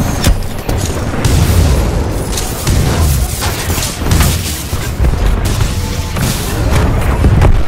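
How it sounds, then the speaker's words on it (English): Electric smoke screen deployed in a Titanfall 2 multiplayer match: a dense, unbroken crackling roar runs throughout, with repeated heavy booming bursts, loud and close, and no talking. "Electric smoke screen."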